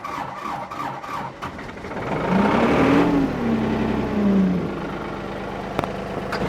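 A tractor engine, primed with starting fluid, cranks and then catches, its tone rising and wavering as it fires up and settles into a rough run, ending with a sharp knock.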